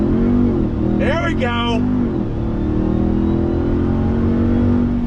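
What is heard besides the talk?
2021 Ram TRX truck accelerating from a dead stop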